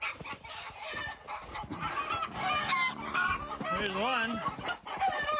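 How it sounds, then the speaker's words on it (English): Several chickens cluck and squawk close by in an agitated chorus after a lynx disturbed their backyard coop, the calls overlapping continuously with a brief spoken remark. "That's two of our new chickens."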